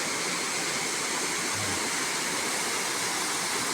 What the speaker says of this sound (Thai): น้ำตกกอหลวงครับ อำเภอลีครับ จังหวัดลำพูนครับ